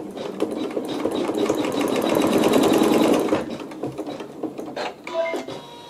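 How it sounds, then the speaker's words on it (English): A sewing machine stitches a quilt match point in a quick burst of rapid mechanical clatter, building to a dense run and then trailing off into a few separate clicks and taps up close. "lift up my needle and stitch the match point for 7."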